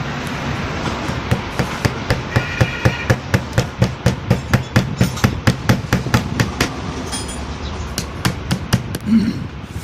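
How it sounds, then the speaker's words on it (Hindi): Cobbler nails hammered into a motorcycle's plastic seat cover ring out as a long run of sharp, evenly spaced metallic taps, close and loud, pausing briefly near the end. "मोची कीलों के साथ सीट कवर को फिट करेंगे। ये देखें जी, अभी ये देखें जी, अभी कीलें ठोक रहे हैं।"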